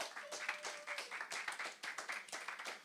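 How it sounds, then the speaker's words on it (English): A conference audience claps in dense, sustained applause, scattered hand claps rising and falling close by with no voices standing out. "Please, another round of applause, please."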